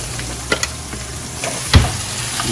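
Vegetables sautéing in hot oil in a pan beside a T-bone steak, a constant close sizzle with scattered stirring clicks and a louder scrape near the end.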